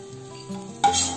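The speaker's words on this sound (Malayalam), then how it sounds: "മുന്തിരിങ്ങ ഇട്ട് കൊടുത്ത് അത് നമുക്ക് വറുത്ത് കോരിയെടുക്കാം" Raisins frying in a pan of hot fat for dates laddu: a short scrape of stirring, then a sudden, brighter sizzle that swells near the end and keeps going, close and fairly quiet.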